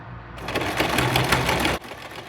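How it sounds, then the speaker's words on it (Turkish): A sewing machine running a zigzag stitch around a round-bottomed bag lining, a fast, steady mechanical whirring and chattering that starts abruptly after a quiet moment and stops sharply near the end. "Burayı tam tur böyle zikzak bir dikiş geçiyor olacağız."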